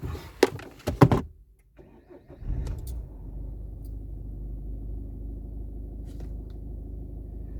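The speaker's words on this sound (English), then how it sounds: "So it's starting the car." A 2012 Peugeot 308 starting on a newly programmed key: a few clicks and knocks, a short cranking burst, then the engine catches and settles into a steady low idle rumble, recorded close.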